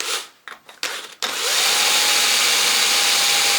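A power drill spins a Lucas 16 ACR alternator from a classic Mini, first in short bursts and then in a loud, continuous high whine.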